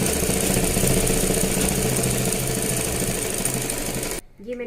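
A sewing machine runs steadily while stitching a blouse lining, a dense continuous mechanical whir that stops abruptly near the end, leaving a brief quieter moment.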